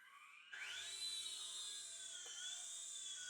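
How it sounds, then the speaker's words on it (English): A VEVOR remote control helicopter with a tail rotor spins up for takeoff, its small motor whine rising sharply and then holding a steady high buzz close by, with no talking. "to go ahead and take off, I'm just going to push the takeoff button here"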